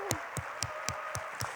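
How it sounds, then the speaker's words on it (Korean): A church youth congregation clapping in a hall, six crisp, evenly spaced claps in a steady rhythm. The claps sit over a faint room background. "우리 하나님께 큰 영광의 박수 올려드리기 원합니다"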